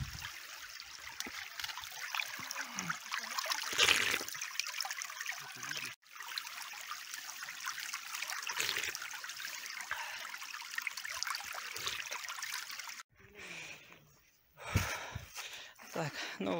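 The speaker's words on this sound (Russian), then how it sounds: "Здесь вот протекает речка." A small river flows at the mouth of the Kurgan near Galiakhmet village, Zilair district: a steady trickling, splashing flow runs throughout, with a brief pause and a rougher, choppier stretch near the end; no one speaks.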